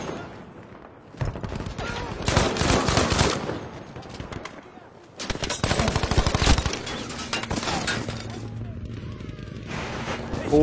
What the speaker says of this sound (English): Boys AT rifle